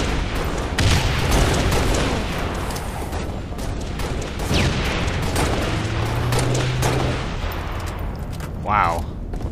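Rapid DMR rifle fire in Halo Reach Slayer gameplay, a dense barrage of sharp shots and booms layered over game sound throughout, loud and continuous.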